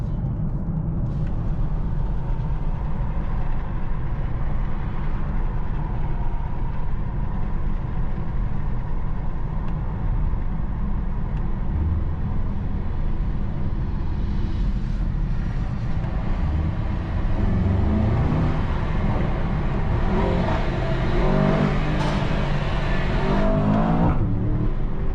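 A 2024 Mercedes-AMG S63 sedan's V8 drones steadily from inside the cabin while driving, with the revs swelling and dropping through gear changes and a louder, brighter rise near the end, heard alone without talk.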